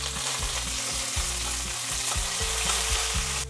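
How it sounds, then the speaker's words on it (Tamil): Garlic and curry leaves sizzle and crackle steadily in hot oil for a Sankara fish kulambu, with a spoon stirring and scraping the pan in repeated strokes, close and continuous, with no talking. "இப்போ இதில் கொஞ்சமாக கருவேப்பிலை சேர்த்துக்குவோம்"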